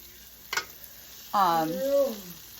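Garlic fries in melted butter in a home kitchen, a soft continuous sizzle under a single click and a brief spoken voice.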